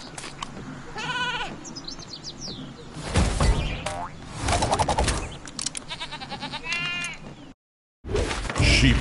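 Cartoonish sheep bleats from the Sheep Creep villain in a video game, several wavering bleats mixed with bouncy game sound effects and a brief silent gap.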